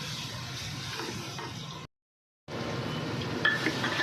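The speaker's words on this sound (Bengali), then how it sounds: "হ্যাঁ রসুনটা দিলাম তেলের মধ্যে। রসুনটা একটু ভাজা ভাজা হোক।" Garlic sizzling in hot oil with cumin and bay leaf, a soft steady crackle and hiss at moderate level, broken by a brief silent gap midway, with faint utensil clinks.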